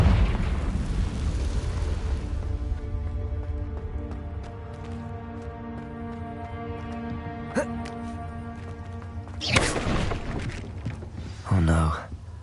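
Confringo blasting curse explosions in Hogwarts Legacy burst out in two sharp booms late on, after a stretch of droning ambient game music.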